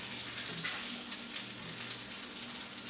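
Bacon pieces fry in their own grease, giving a steady, dense crackling sizzle with small pops that holds close and even the whole time, with no talking.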